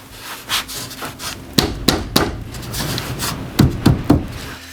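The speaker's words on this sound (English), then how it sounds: "using to put over the new piece so that I can bash it with a hammer and get it over the previous tongue here" A hammer strikes a sacrificial wood scrap laid over a new tongue-and-groove floor board in a tiny house loft, driving it onto the previous tongue with about six sharp, close knocks in two clusters of three.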